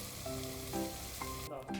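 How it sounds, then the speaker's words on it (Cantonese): Scallions fry slowly in oil in a pan, giving a steady, gentle sizzle with soft crackles throughout. "等啲葱油慢慢炸住先"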